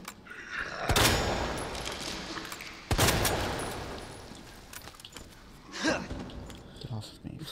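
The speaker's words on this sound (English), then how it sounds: "I'm gonna have to shoot that thing with my magnum" Three heavy magnum revolver shots boom from a Resident Evil 2 Remake zombie encounter, spaced a couple of seconds apart, each a sharp loud blast with a lingering rumble, a gasp-like sound between them.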